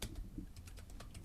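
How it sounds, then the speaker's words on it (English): Close, rapid typing on a keyboard: a fast, uneven run of crisp key clicks over a low background hum. "sorry, I'm typing."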